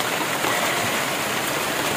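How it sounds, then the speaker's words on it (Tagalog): Heavy rain pours steadily outdoors as a dense, even hiss with a watery rush, loud and unbroken throughout, with no voices over it. "kita nyo ba yan ang lakas ng ulan o"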